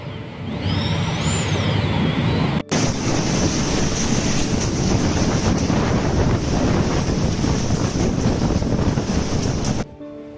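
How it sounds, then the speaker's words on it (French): A powerful storm wind at a hurricane-strength level of about 100 miles per hour roars loud and unbroken across the microphone for about ten seconds, with one brief cut near the start and no voices. "un puissant vent de niveau 14 équivalent à une vitesse de vent de 100 miles par heure a balayé tout ce qu'il traversait"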